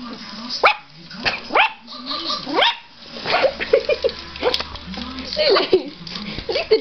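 A small Yorkie yaps and whines repeatedly at a robot dog, close by, with short excited barks and a person talking over it.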